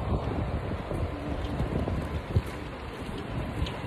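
Steady rain falling outdoors in Sydney, a dense, even patter with wind noise buffeting the microphone, close and continuous throughout with no speech.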